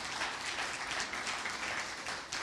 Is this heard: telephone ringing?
no